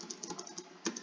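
PC keyboard being typed on, a quick run of light, close clicking keystrokes in an uneven rhythm, faint and alone.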